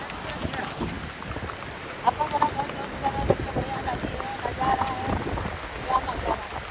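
A horse walks along a trail near water in Pahalgam, Kashmir, its hooves clopping faintly and irregularly beneath steady rushing stream noise and a voice.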